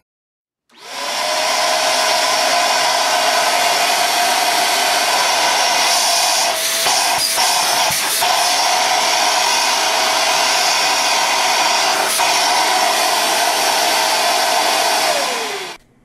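A Dirt Devil 360 Reach handheld vacuum cleaner switches on and runs loud and steady with a high-pitched whine, then shuts off and winds down.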